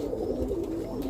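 Roller pigeons cooing in a loft, a steady low murmuring coo from several birds, close and continuous through the whole moment.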